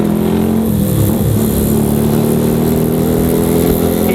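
Suzuki Satria motorcycle engine running close and loud on a bumpy road, a steady buzzing drone with a brief rev dip and recovery near the start.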